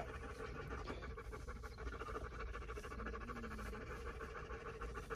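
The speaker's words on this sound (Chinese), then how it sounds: "哎，不能再走了，狗狗们热得受不了了。" Dogs pant hard in the heat at a highway service area near Langshan, a steady, rapid rhythm of breaths that runs close and continuous throughout with no talking.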